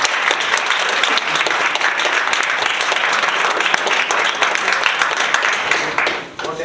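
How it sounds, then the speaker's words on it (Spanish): Audience at an economics book presentation breaks into loud, sustained applause, dense and steady hand-clapping close by that tapers off at the end. "Un fuerte aplauso."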